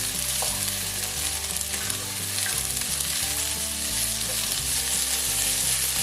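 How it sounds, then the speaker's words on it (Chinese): Green beans stir-fry in a little oil over high heat, a steady loud sizzle with scraping stir strokes throughout, no talking. "加少许的油进来，直接加入我们的四季豆，先炒。"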